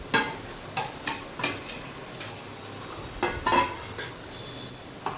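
Half a kilo of jaggery added to a pan of beetroot carrot halwa and stirred, with a series of irregular metallic clinks and scrapes of a spoon against the pan, close and moderately loud.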